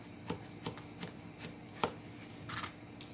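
A knife cuts through a vegetable on a cutting board, giving a few separate dull knocks and taps spread unevenly over a few seconds, close but quiet.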